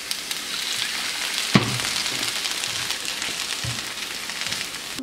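Carrot noodles seasoned with soy sauce cook in a pan, giving off a steady, fairly quiet sizzle and crackle throughout, with a few sharper pops and clicks from stirring; no one speaks.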